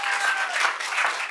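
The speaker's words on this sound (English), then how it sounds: "Let's give them a round of applause." Audience applause at a regular public meeting, welcoming a champion school Science Olympiad team: dense, steady clapping that fills the whole short stretch with no talk over it.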